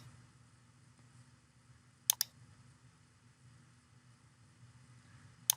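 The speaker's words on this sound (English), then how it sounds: "You can double left click this." Two quick pairs of computer mouse clicks, a few seconds apart, sound faintly against a low, steady room hum while someone works in CorelDraw.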